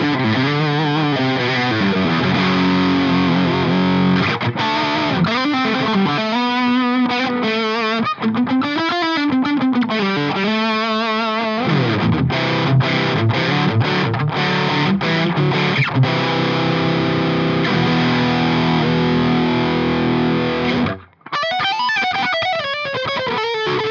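A heavily distorted electric guitar through a Yuer Tube Dream distortion pedal plays sustained notes and bends, loud and continuous, with a brief break near the end before it resumes.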